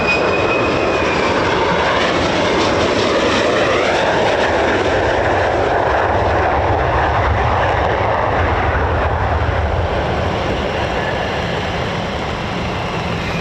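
An F-15 or F-35 fighter jet taking off at RAF Lakenheath, its engine a loud, sustained roar with a rising whine that stays close and steady throughout.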